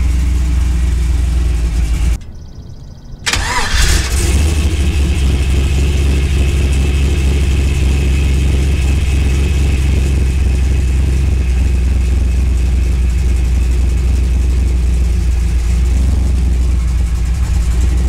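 A car's LS engine, fitted with an LT-style starter, cranks and catches after a brief pause, then settles into a steady, loud idle with a low rumbling drone that continues throughout.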